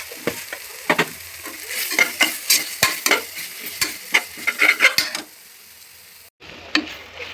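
Biryani masala with turmeric being sautéed in a pan: rhythmic scraping stir strokes over a soft sizzle, close and clear, stopping abruptly before a final couple of strokes.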